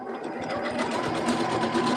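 A sewing machine stitching fabric bubble pods, its needle running in a fast, steady mechanical whir that is close and continuous, getting slightly louder toward the end.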